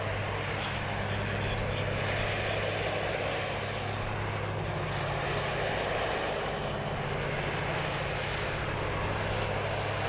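A United Airlines jet on its takeoff roll at Sydney Airport produces a long, steady roar of engines, loud and continuous throughout with a broad rushing tone and no talking over it.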